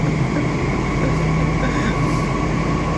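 Steady interior rumble of a moving Delhi Metro train, a constant low drone with faint track noise and hum throughout, with no distinct clacks or squeals.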